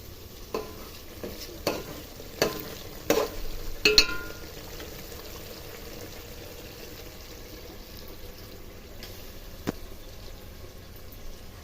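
Fish pieces going into hot fried masala for a fish curry, a low continuous sizzle with a few sharp clatters and stirring knocks early on, then a quieter steady frying hiss, no voices.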